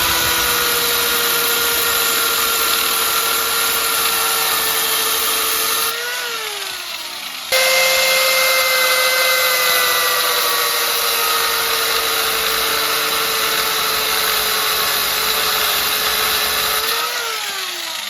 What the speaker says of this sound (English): So I grind it.